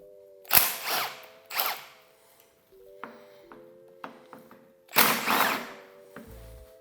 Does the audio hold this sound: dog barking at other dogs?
no